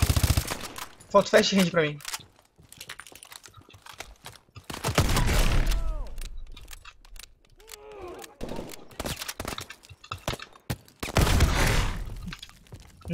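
Bursts of automatic gunfire in the video game Call of Duty: Advanced Warfare, loud rattling volleys in several separate clusters, with a player talking between and over the shots.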